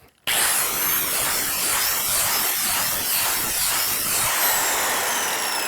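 A power drill fitted with a special bit for mushroom log cultivation bores into a wooden log, a loud, steady, close grinding whir that starts abruptly and runs without a break.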